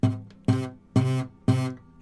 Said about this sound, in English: when you're starting out, sometimes you're not pressing hard enough, so some strings will sound like this.